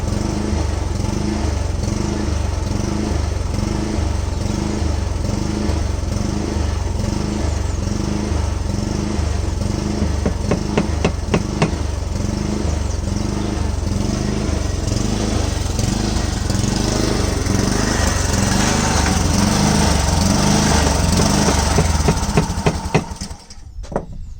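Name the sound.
lawn mower running outside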